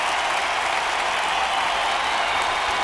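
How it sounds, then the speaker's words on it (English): An audience at a school opening assembly claps in a dense, sustained round of applause, steady and fairly loud throughout without pauses. "Give them a big round of applause"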